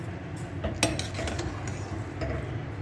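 A spoon scrapes and clinks against a pot while salt and crushed chilli are mixed into a falsa berry chutney, with a sharp knock followed by a run of light ticking stirs at close range and no talking.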